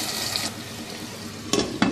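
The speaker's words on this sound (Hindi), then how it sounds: "अब इसमें शामिल कर देंगे पानी हसबे ज़रूरत।" Water is poured into a pot of mutton stew seasoned with red chili, salt and turmeric, a brief soft splashing with a couple of louder gushes near the end, quiet and close.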